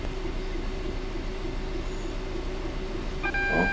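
Heavy 6M90 Hope Earls Sidings to Theale cement freight train on Train Sim World's Great Western Express rolls on with a steady deep rumble and drone of rail noise, a high metallic wheel squeal rising near the end.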